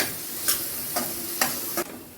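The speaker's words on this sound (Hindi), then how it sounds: "प्याज को ब्राउन होने तक भूनेंगे। कड़छी लगातार चलाएंगे।" Chopped onions sizzling in a pan over medium heat, with a ladle scraping and stirring in four distinct strokes over a steady soft frying hiss.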